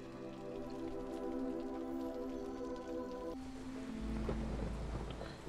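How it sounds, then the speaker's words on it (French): Storm rain in the video game Against the Storm, a steady hiss of downpour with low rumbling beneath, layered under sustained game music tones. "Et c'est l'heure de la tempête."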